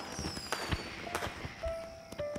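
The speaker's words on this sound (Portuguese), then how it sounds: "Vamos ver melhor os fogos de artifício." Fireworks bang and crackle in a cartoon scene, several sharp bursts at irregular intervals over a busy background with whistling tones, moderately loud throughout.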